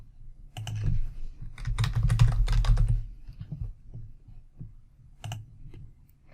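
Close typing on a computer keyboard while entering document details into project software, with a dense burst of quick key clicks followed by sparser, scattered taps and short pauses, no voices.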